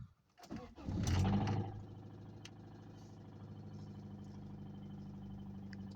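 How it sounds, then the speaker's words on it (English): A 1992 Toyota Corolla wagon engine with a rod knock cranks and catches with a loud burst, then settles into a steady, rough idle close by, with no talking. "It's a rod knock."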